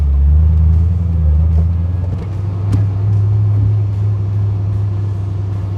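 A deep, steady engine rumble from a 1999 Shelby Series 1 sports car hums throughout as it cruises along, loud and close, with a single sharp knock partway through.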